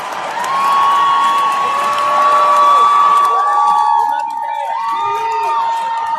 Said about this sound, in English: He plays stadiums, and people are cheering.